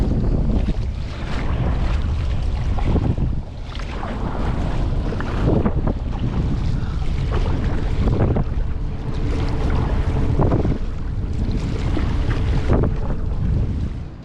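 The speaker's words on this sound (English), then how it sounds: "the wind's coming directly from over here, so it being at my side isn't that bad at all" Strong wind roars steadily across the microphone while paddling a kayak on open water on a cold, windy day inshore, with splashing water and waves beneath, loud and continuous with no talk.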